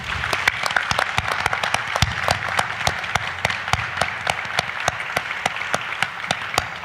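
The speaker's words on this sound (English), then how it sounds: "And that was worth a round of applause" Audience applause follows a panel discussion, a steady patter of many hands with a few sharp, close claps cutting through in a regular rhythm.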